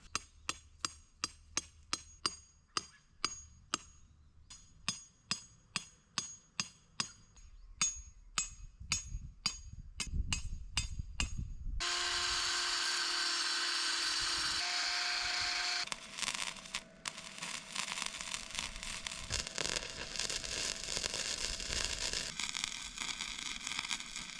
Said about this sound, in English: So let's whack in some rebar.